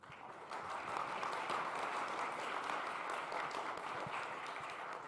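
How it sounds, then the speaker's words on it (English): Steady, dense applause from an audience at a startup pitch expo, rising quickly after a brief pause and holding at an even level throughout. "Can we have a round of applause for our sponsors"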